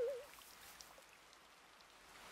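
Steady soft rain falls in a Minecraft game world, a faint, even hiss of drops continuing for a couple of seconds with no voices over it.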